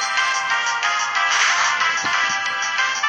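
A phone ringtone rings loudly and steadily for about three seconds, a bright repeating electronic tone heard alone, with no talk over it.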